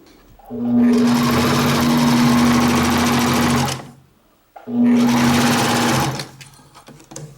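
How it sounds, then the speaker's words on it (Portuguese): Sewing machine stitching over a gathering line while assembling a child's overalls, running in two steady bursts of about three seconds and one and a half seconds with a short pause between, loud and close with no talk. "eu vou costurar aqui em cima dessa linha de franzida, aqui no meio"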